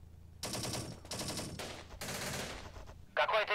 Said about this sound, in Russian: Ведем перестрелочку.